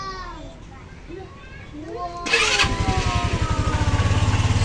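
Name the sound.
Rusi RFI 175 motorcycle engine starting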